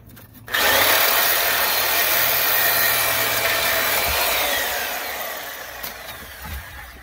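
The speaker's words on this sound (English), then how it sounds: "I'm just going to go ahead and then cut all of the nails holding these on" A power tool cuts through the nails holding boards onto a wooden pallet, a loud, steady grinding whine that starts abruptly and runs continuously, easing slightly toward the end.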